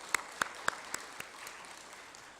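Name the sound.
applause in a church service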